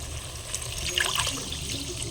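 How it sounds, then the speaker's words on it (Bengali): Water poured into a pan of chicken curry cooked with banana flower, a steady close trickle and splash lasting about two seconds with no voices. "এবার জল দিয়ে দেবো এর মধ্যে"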